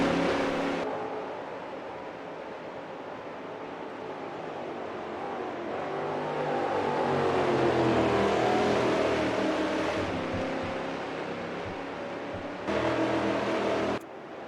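Brazilian StockCar race cars in a sim racing game at Goiania, engines droning and revving as cars pass along a long pit lane, swelling to a loud pass midway and fading, with no talk.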